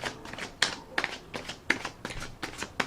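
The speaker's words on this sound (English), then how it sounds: "I'm going to put another rifle and shuffle on the deck" A deck of tarot cards being riffled and shuffled close by, with quick papery bursts of flutter and snapping that repeat in an uneven rhythm over a quiet background. No one speaks.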